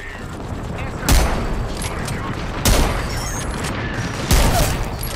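Gunfire in the video game Apex Legends during ranked play: three loud bursts of shots about every one and a half seconds, each sharp and booming, over a steady bed of game noise.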